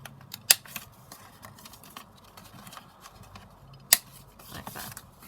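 Scissors trim cardstock and round off its corners for handmade foldout flip pages: two sharp close snips stand out, with quieter paper rustling and handling between them and no speech.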